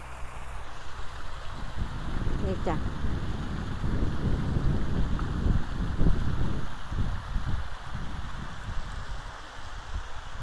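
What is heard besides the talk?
waterfall in a park in France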